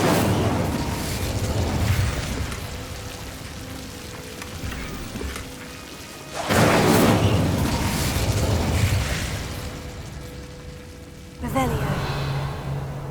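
A fire spell blasts in the fantasy video game Hogwarts Legacy, producing loud, roaring whooshes of flame that surge in repeated waves, with a voice speaking over them.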